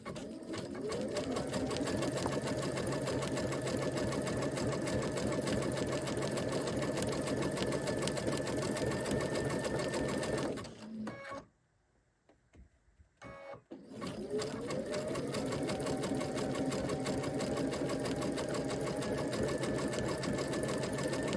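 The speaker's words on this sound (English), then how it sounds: "As I sew, you can see that the needle is hopping from the applique shape onto my background fabric." A sewing machine zig-zag stitches an appliqué shape onto background fabric, running in a steady, close, rhythmic whir that stops briefly midway and then starts up again.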